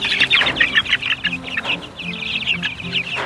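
A flock of chickens on a 14-acre farm clucking and chirping busily, many overlapping calls close by and fairly loud, with no talk.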